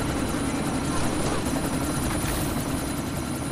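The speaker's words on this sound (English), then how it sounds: "Chopper's been grounded." Helicopter in the video game Deus Ex: a continuous, dense rotor and engine roar that stays steady and loud throughout with no talking.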